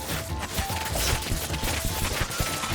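Dense clatter of battle in the strategy video game Thronefall, a busy stream of rapid clashing hits and impacts, fairly loud and continuous with no voices.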